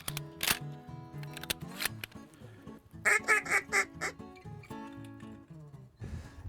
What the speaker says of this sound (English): every now and then you hear some ducks